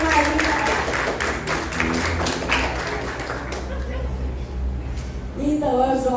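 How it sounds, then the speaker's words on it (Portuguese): Youth members of a church congregation get a round of applause on a Holy Saturday youth service; scattered clapping and taps run under a speaking voice and fade toward the end as talk continues. "Parabéns, mais uma salva de palmas para eles."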